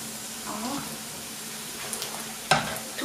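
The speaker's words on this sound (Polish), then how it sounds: "Cebulka mi się fajnie podpiekła razem z tymi 3 pulpecikami." Onion frying in a pan together with three small meatballs, a soft steady sizzle with a few clinks of a utensil stirring, fairly quiet and without speech.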